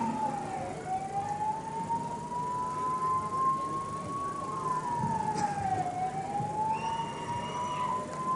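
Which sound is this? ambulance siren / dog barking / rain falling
ambulance siren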